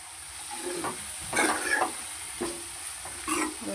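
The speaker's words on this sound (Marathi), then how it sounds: "तेल सुटेपर्यंत चांगलं परतून घेते" Masala sautéed in oil in a pan for a black pea curry gives a soft, steady sizzle, broken by a few brief, louder bursts of stirring and frying.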